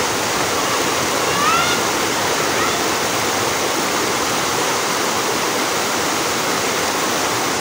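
A river rushes steadily in a continuous broadband wash of flowing water, loud and close, with no breaks for the whole stretch.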